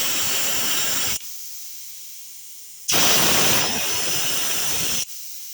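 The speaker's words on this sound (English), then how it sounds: "you want to see if it actually turns the air on and off when you move the valve" Air hissing through an Eaton range valve on a disconnected outlet, a loud steady rush that cuts off abruptly, returns after a pause and then stops again as the valve is switched.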